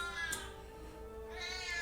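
A house cat lets out a drawn-out, wavering meow at close range over a low steady background hum, with no talking.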